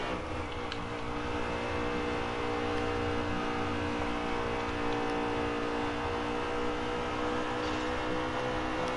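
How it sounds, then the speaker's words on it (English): A stock race car engine in a Kansas oval racing video game drones loudly and continuously as it blows up and slows, a dense steady roar with no pause. "My engine's blowing up and I'm slowing down."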